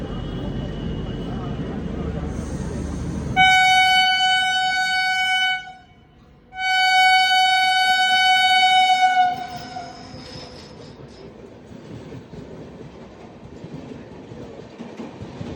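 An ordinary locomotive-hauled passenger train sounds its horn in two long, loud, steady blasts, with a brief gap between them, as the train approaches and passes with low rumble.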